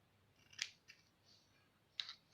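Scissors trimming loose string ends on a handmade journal mini booklet closure, two crisp snips about a second and a half apart with a faint extra click between, close and quiet with no talk.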